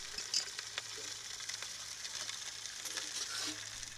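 Hot, heat-discolored steel dropped into a can of motor oil sizzles with a faint, continuous crackling hiss and a few small pops.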